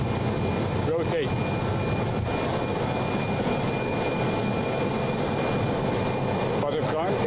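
A jet airliner takes off and climbs away from runway 34 right, its engines roaring as a loud, continuous rumble throughout, with brief cockpit callouts spoken over it.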